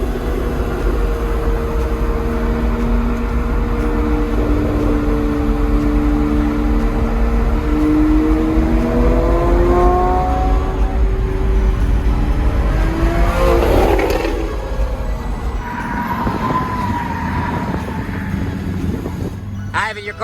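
A Lamborghini Murcielago revs at a car event: several rising engine sweeps climb one after another, loud and close, then ease off into lower running noise while people talk nearby.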